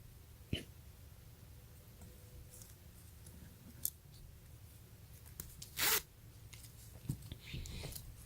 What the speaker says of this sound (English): It's pretty heavy duty zipper.